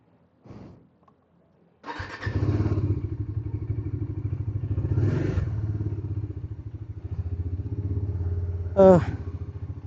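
A motorcycle engine starts and settles into a steady idle while warming up, running loud and close for most of the stretch after a brief earlier blip, with a short voice-like rise near the end.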